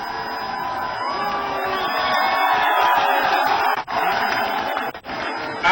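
A large crowd at a political rally in India cheers and shouts together in a loud, sustained roar that holds steady, dipping briefly twice near the end.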